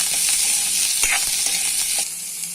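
Garlic fries in hot oil, a steady close sizzle and hiss with a few soft stirring clicks, easing slightly toward the end; no talking.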